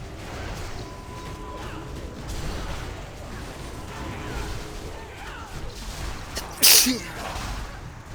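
A single sharp sneeze bursts out near the end, brief and fairly close, over a steady murmur of background noise and game sounds during an online raid session.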